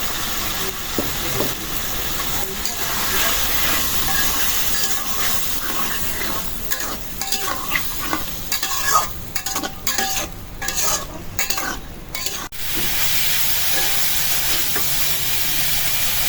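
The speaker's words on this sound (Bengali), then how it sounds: "মাছটা ভালো করে ভুনা করে নিলাম" Small chopped fish frying in spice paste with a little water is stirred steadily in a pan, producing a loud continuous sizzle with repeated scraping strokes and some hissing steam.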